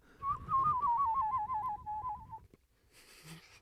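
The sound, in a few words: person whistling imitating a bird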